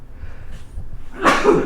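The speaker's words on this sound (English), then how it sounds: "Excuse me." A single short sneeze bursts out near the end, close and fairly loud, after quiet low rumble.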